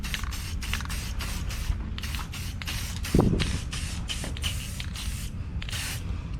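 Spray gun hissing steadily as a light first coat goes over custom spoon wheels, with a brief louder burst midway and otherwise an even, continuous spray close by.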